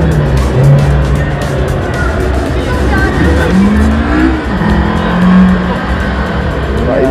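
A Lexus racing simulator game at an exhibition plays loud car engine roar with rising and falling revs and squealing tires, heard amid busy crowd chatter and nearby talking.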